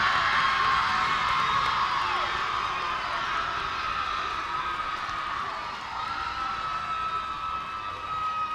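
A basketball arena crowd cheers the homecoming queen with a loud, continuous roar of cheering, whoops and applause that holds steady and then eases slightly toward the end.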